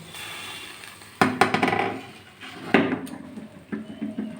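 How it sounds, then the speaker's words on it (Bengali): A metal lid comes off a cooking pot of boal fish paturi wrapped in banana leaves, giving two sharp close clanks followed by smaller clinks and knocks. "এবার আমি ঢাকনাটা খুলে নিচ্ছি"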